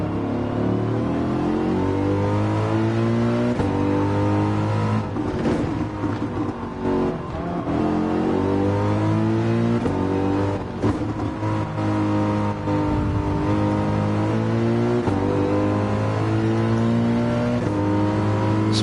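Race cars in Gran Turismo 7 run the short version of the Nordschleife. Several engines drone and rev continuously, with rising and falling pitch as the cars accelerate and shift through gears. The sound is loud and unbroken, with no talk over it.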